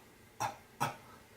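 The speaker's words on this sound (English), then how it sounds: "when I make that cough, I add a very, very slight inhale to it" Two short, sharp coughs made while blowing vape O rings, each a quick breathy burst about half a second apart, close and fairly loud in a quiet room.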